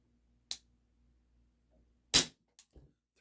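An Isaazon single-stroke pneumatic 4.5mm air gun fires one sharp crack followed by a few quieter mechanical clicks in an otherwise quiet room.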